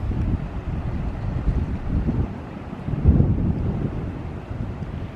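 Breezy wind blows outdoors by a lake in the Lake District after rain, a steady low rumble of gusts buffeting the microphone, with a stronger gust in the middle and no voices.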